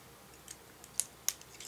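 Wire for tulle butterfly wings is trimmed with a few sharp, close snips, three or four quick clicks spaced across a quiet moment.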